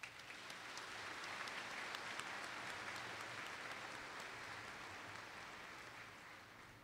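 Sustained applause from the audience at a spring 2012 university commencement ceremony in Fort Smith, dense and steady throughout, heard from a distance in a large hall.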